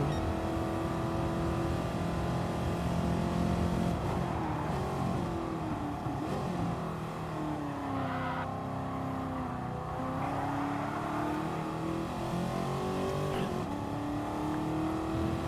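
Engine of a 1971 race car in a racing sim, a steady droning whine that rises and falls with shifts and revs, carrying on continuously at moderate loudness with no talk.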